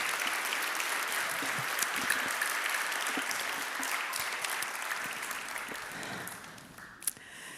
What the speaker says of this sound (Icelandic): gefa þeim gott klapp fyrir þessar fallegu bænir